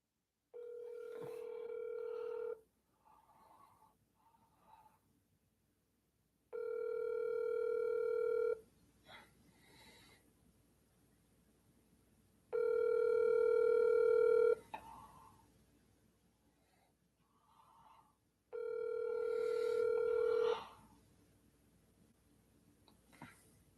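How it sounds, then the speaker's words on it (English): An outgoing phone call rings back four times, each tone lasting about two seconds with equal silent gaps between, heard faintly through the handset with no one speaking. "I'm going to call somebody else."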